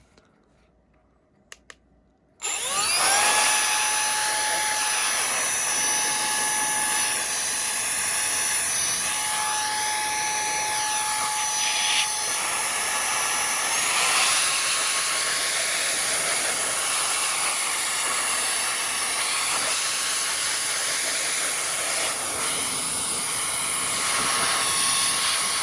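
Koonie 77000RPM cordless air duster switching on after a couple of clicks and blowing dust off a grill, a loud sustained high-pitched whine with rushing air, close and continuous, its tone shifting slightly as it moves.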